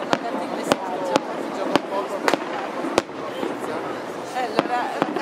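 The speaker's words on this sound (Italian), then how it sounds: "sto guardando i fuochi d'artificio qua sull'acqua" Fireworks burst over the water in Bolzano, sharp cracks and booms repeating every half second or so at a moderate distance, while someone talks close by on the phone.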